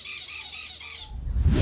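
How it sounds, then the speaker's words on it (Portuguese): A cactus parakeet of the Caatinga in northeastern Brazil squawks four times in quick, shrill, rhythmic bursts close by, followed by a low rumble. "É o periquito da Caatinga."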